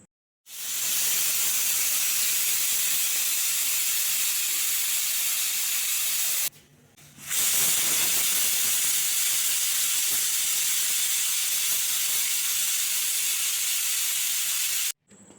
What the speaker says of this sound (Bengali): আমার এই প্রেশার কুকারে মসুর ডাল সেদ্ধ করতে দুটো হুইসেল লাগে।